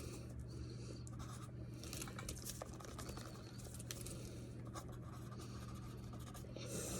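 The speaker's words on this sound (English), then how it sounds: "I'm gonna write that down." A pen writes on paper while a chemistry problem is worked out, heard as faint, close scratching strokes that continue steadily over a low background hum, with no talk.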